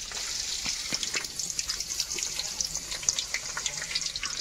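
Chopped garlic and ginger frying in hot oil in a home kitchen, giving a steady close sizzle with irregular crackles and pops throughout and no talking.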